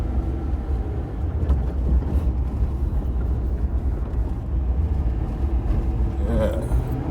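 A 2011 Ford Crown Victoria cruises at night on Chicago streets with potholes, giving a steady low engine and road rumble from inside the cabin while people talk over it.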